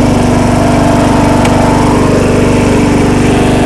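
A John Deere L100 lawn tractor engine runs steadily just after a cold start, a loud, close, even mower-style drone with a rapid regular pulse and no talking.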